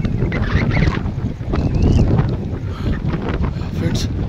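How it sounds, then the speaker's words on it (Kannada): Strong, pushing wind blasting across a microphone outdoors, a steady, heavy low roar with constant buffeting and a few brief higher whistles. "ಗಾಳಿ ಏನು ಹಿಂಗೆ ತಳ್ತಾ ಇದೆ"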